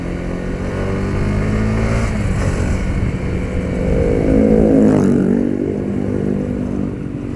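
A 2021 Honda CBR150R motorcycle being ridden, its engine droning steadily up close and swelling as it accelerates before easing off, with no talking.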